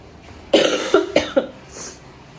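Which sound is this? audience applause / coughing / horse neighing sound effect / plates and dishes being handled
coughing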